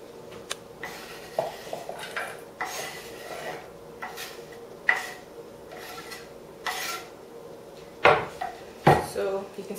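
Chopped onion for guacamole is scraped and tipped into a bowl: scattered clinks, light scraping and a few sharper knocks against the dish, spaced out over several seconds in a quiet kitchen.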